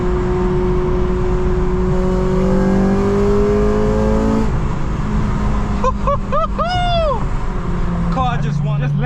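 Engine of an 8th gen Honda Civic Si with VTEC pulling under acceleration, a steady loud drone rising in pitch, followed by sharp whooping sweeps as it revs and shifts, heard from inside the car.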